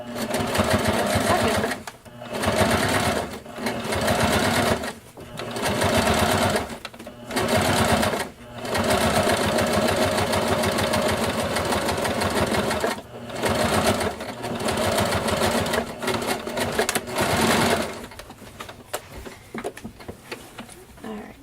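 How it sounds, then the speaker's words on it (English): A sewing machine stitches pockets for steel boning in a cosplay costume, running in loud, close bursts of rapid mechanical whirring separated by short pauses, with occasional talking. "So right now I'm sewing these pockets"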